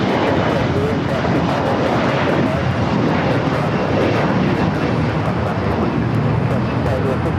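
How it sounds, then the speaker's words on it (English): A TAP Air Portugal jet arriving from Lisbon touches down at LAX, its engine roar loud and continuous throughout, with no gaps or pauses. "We got tap, about to touch down."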